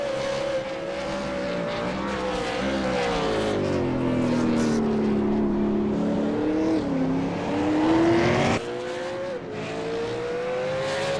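V8 Supercar engine on a hot lap at Sonoma, a loud continuous race-engine drone whose pitch climbs and dips through gear changes and corners, with a sudden shift near the end.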